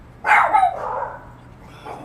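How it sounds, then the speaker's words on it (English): Dogs bark in a short, loud burst near the start, then a softer yelp follows a moment later, with no one talking. "Here go the dogs."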